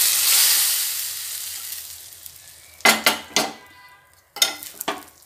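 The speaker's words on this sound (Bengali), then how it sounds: "এবার ফোড়নটা আমি এর মধ্যে দিয়ে দেবো" Hot fried spice tempering hits moong dal in a pot: a fading hiss of oil, then a few sharp metallic knocks and scrapes of a spoon against the pan, close by with no voices.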